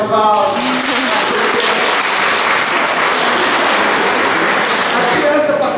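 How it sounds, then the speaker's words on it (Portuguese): Loud, steady applause from a crowd at a church gathering fills the whole stretch, with brief speech at the start and again near the end. "Uma salva de palmas."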